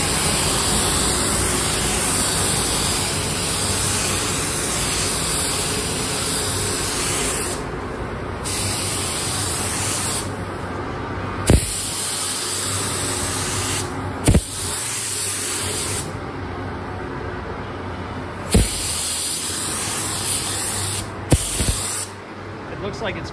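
A spray gun hisses loud and close in long continuous bursts as a second coat of base paint goes onto 1989 Yamaha FZR1000 motorcycle parts, broken by short pauses and faint clicks of the trigger.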